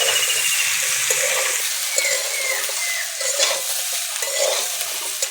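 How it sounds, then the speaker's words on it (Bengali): Boiled jackfruit and potato pieces frying in oil in a pan, a steady bright sizzle close up with occasional stirring scrapes, no talking. "ওই তেলেই সিদ্ধ করে রাখা এঁচোড় আলুটা দিয়ে দিচ্ছি। লাল লাল করে ভেজে নেব।"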